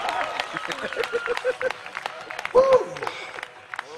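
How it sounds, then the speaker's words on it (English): Audience at a magic show led by a magician at Starwood 2014 bursts into applause and cheering, with a loud whoop rising midway, while a performer's voice talks over the clapping. "Round of applause for my two bondage boys."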